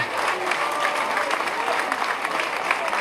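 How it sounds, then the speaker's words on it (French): At a university excellence-day ceremony, the audience applauds a professor with a steady, dense round of clapping that carries on at an even level for about three seconds, with a few voices faintly audible. "Des applaudissements, mesdames, messieurs,"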